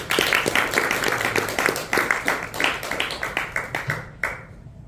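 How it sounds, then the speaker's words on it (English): An audience applauds steadily, a dense patter of many hands clapping that carries on for several seconds before tapering off with a few final claps. "Please give your applause for Advanced Communicator Silver Chawan."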